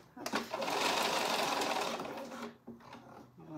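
A Bernina B480 sewing machine runs in one steady whirring burst of about two seconds while stitching a tote bag, close and fairly quiet, followed by brief soft handling sounds.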